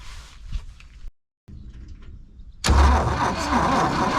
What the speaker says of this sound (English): So I just want to see if the ignition works and if we get a click or a crank.